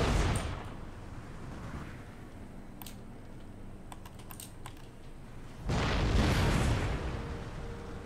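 Mortars lob explosive shells in the strategy game Empire Total War, a deep, rumbling boom swelling near the end after a stretch of muted battlefield noise, with faint clicks scattered before it.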